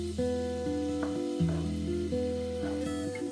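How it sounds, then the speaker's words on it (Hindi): Ginger garlic paste fries in hot oil while making chicken vegetable kebabs, a continuous sizzle with faint tonal music underneath. "सबसे पहले हम गरम ऑयल में डालेंगे अदरक लहसुन का पेस्ट।"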